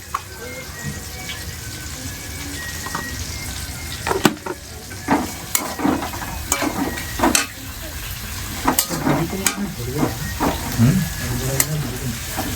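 Chicken meat fries in a pot for a village-style biryani, a steady sizzle broken by repeated sharp scrapes and knocks of stirring, with faint voices now and then.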